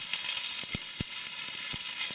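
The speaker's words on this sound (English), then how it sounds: "Our meat is browning lovely now." Ox cheeks sear in a hot frying pan with a steady, hissing sizzle, broken by a few soft pops and thumps, close up and without voices.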